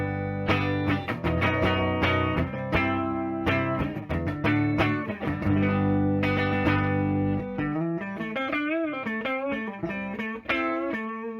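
Electric guitar, a Dean Mini V played through a Tone Americana Evil Robot tube amp with slight breakup and no reverb, chords and riffs ringing out steadily, then shifting to wavering bent notes near the end.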